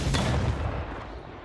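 A single heavy tank cannon blast booms at the start, then a broad roaring rumble lingers and slowly fades over the next second.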